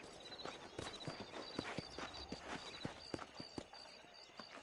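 Horse hooves clip-clop at a walking pace across a dusty frontier trail outside Armadillo in Red Dead Redemption, several horses moving together in an irregular rhythm under a steady high ambient whine, moderately close, with no talk.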